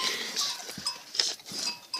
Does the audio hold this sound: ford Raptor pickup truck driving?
no